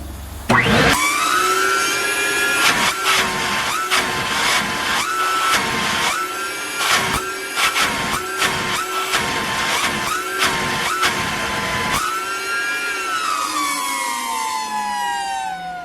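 An engine cylinder head mounted on a flow bench, set up for exhaust valve spring testing, roars with a loud, steady blower whine whose pitch repeatedly dips and surges before settling into a continuous rush, with no voices.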